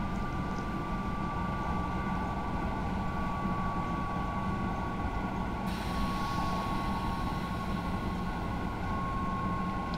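A TGV Duplex high-speed train braking from speed with the air brake in Train Simulator 2020, giving a steady, loud rolling rumble with a constant high whine and an unbroken wash of wind noise.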